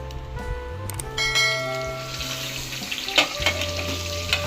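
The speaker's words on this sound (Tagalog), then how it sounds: "Sasalang natin ulit ito para maging crispy na siya sa pangalawang pagprito mga kachan." Chicharon bulaklak deep-frying a second time in hot oil to crisp up, a steady bubbling sizzle with a few metallic clinks and stirring knocks, with a steady electrical hum underneath.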